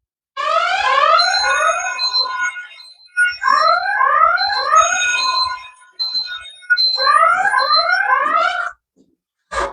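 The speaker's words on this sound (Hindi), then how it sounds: "तो अभी आप सुनेंगे अलार्म किस तरह से बजता है।" Electronic buzzer alarm from a truck security camera speaker sounding in three long bursts of rapid, rising warbling tones, loud and close, separated by short pauses.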